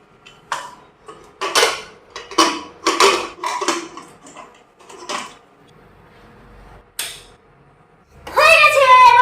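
A pressure cooker lid is shut over moong dal khichuri with vegetables: a run of close metallic clanks and scrapes, a brief pause, then a loud ringing metal clang as the lid locks.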